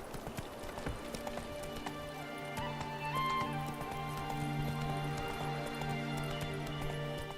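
Hoofbeats of Roach, the horse in The Witcher 3: Wild Hunt on Xbox One, clopping in a steady galloping rhythm under game ambience and music, fairly quiet, with a faint whinny.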